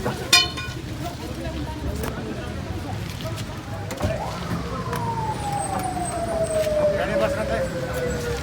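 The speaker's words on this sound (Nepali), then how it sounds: "एम्बुलेन्स आयो एम्बुलेन्स" An ambulance siren wails at a truck accident scene in Kalanki, Kathmandu. A single falling tone sweeps down in the middle distance over street noise, while voices talk nearby.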